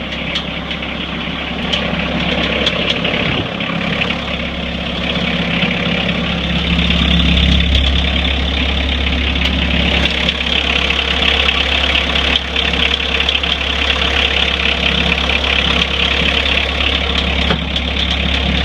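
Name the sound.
diesel engine idling after cold start, one cylinder misfiring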